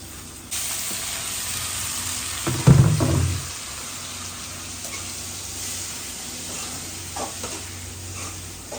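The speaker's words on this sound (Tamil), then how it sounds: "தக்காளியும் வதங்கட்டும்" Tomatoes dropped onto softened onions in a frying pan hit with a loud thump and a surge of sizzling, which settles into a steady hiss with a few light knocks and no talking.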